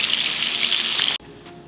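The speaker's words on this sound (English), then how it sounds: "After the butter is nice and foamy and you've basted the scallops, I like to give them all one flip for about 30 seconds" Scallops sear in foaming, basted butter in a pan, making a loud, bright, hissing sizzle that stops abruptly, leaving a quieter low sizzle behind.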